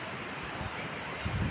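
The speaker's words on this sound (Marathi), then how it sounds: "धबधब्याचा आवाज येत आहे" Steady broadband roar of the Nalkund waterfall near Buldhana on a hillside approach, a continuous wash of water noise at moderate distance that swells slightly louder toward the end, with no talk.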